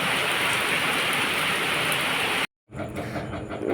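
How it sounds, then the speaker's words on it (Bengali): Heavy rain falls in a steady, loud roar while water floods the street outside, broken by a brief dropout of silence before the downpour resumes slightly duller. "প্রচুর পরিমাণে বৃষ্টি পড়ছে কদিন ধরে"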